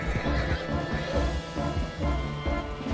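A horse in Red Dead Redemption 2 whinnies and clops nearby amid busy game sounds, with a crash and thumping noises mixed in, loud and close throughout.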